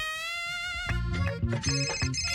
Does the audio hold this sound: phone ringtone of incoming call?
yes